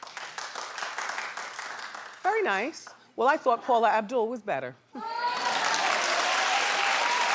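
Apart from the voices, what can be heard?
studio audience clapping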